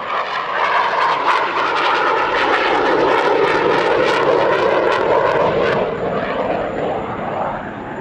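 A twin-engined aircraft rolling in a display at the Dubai Airshow 2023, a loud sustained engine roar with a rising and falling tone that holds steady before easing slightly toward the end.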